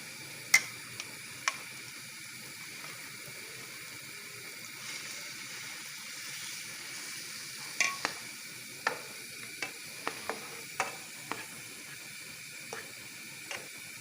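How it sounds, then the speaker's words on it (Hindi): Minced meat sautéing with ginger garlic paste in oil, a soft steady sizzle with scattered clicks and taps of a stirring spoon against the pan, fairly quiet and without talk. "अब ये इसको सौते कर रही हैं।"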